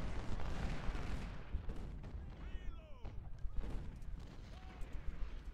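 Musket volleys and artillery fire crackle and thud at a distance in Ultimate General: Civil War's Antietam battle, irregular and fairly quiet, with voices and other game sounds mixed in.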